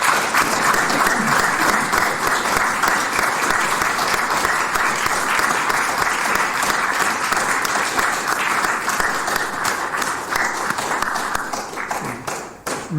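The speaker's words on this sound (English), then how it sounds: "shall we give him a round of applause instead?" A funeral crowd gives sustained, dense applause at close range, steady for most of the stretch before thinning and fading near the end.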